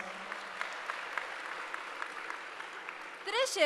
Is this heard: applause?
yes